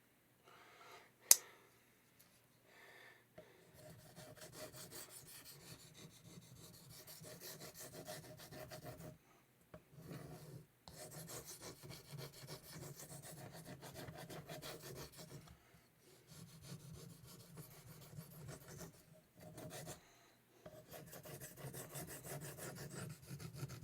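Victorinox Adventurer pocket knife drawn across a Belgian Coticule whetstone, repeated soft rasping strokes in long runs separated by short pauses, close and quiet, with one sharp tap near the start and no speech.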